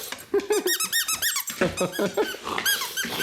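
Rapid, high-pitched squeaks from a rubber toy being chewed repeatedly, close up, with a low growl underneath.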